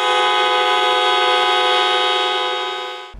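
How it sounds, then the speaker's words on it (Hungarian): Local city buses in Pécs at the main railway station, drivers protesting at midday with a loud, sustained honk of several horns that holds steady before cutting off at the end. "Hosszas dudálással tiltakoztak a pécsi helyi járatú buszok vezetői hétfő délben a főpályaudvaron."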